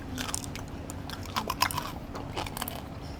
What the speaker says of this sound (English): this is just gonna be pure ASMR crunch for you guys